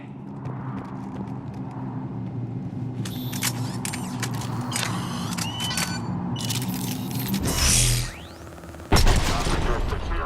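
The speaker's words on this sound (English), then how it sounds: "The cannon fire is clearing the way." Cannon fire in the video game Mass Effect 3 comes through as repeated heavy bursts and clattering blasts over a low rumbling battle bed, with a loud swell and a sudden powerful impact near the end.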